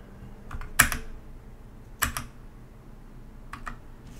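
Computer keyboard typing arrives in three short bursts of a few crisp keystrokes each, close and clear, separated by quiet pauses.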